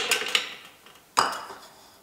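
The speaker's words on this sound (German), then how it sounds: "Ich gebe jetzt 11 in den Mixer" Toffifee candies drop into a Thermomix mixing bowl in a few sharp clattering bursts, two quick knocks followed after a pause by a louder tumble that rattles and fades, with no talking.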